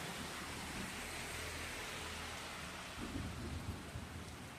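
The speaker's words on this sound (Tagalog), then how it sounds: "Lakas ng ulan." Heavy rain pours steadily with low rumbles of thunder on a mountain road near Banaue in Mountain Province, a dense, constant wash of sound with a slightly louder burst near the end.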